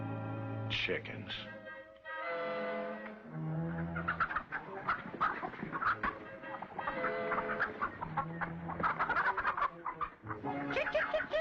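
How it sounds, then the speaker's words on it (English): Chickens clucking and squawking nearby in a barnyard, busy and irregular, with a voice speaking over them at times. "Chickens."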